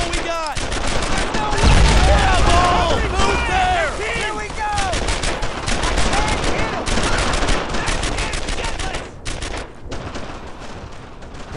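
Dense, continuous gunfire from a squad firefight in Brothers in Arms: Earned in Blood, with rapid bursts and volleys overlapping nonstop under shouted voices throughout.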